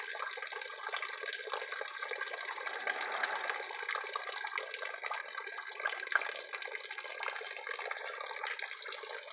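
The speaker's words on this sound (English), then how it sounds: "So let me shut up so you can hear the water doing its thing." Water from a spring flowing steadily through a pond and drainage ditch, a continuous soft rushing and trickle, moderately distant and fairly quiet, with no talking.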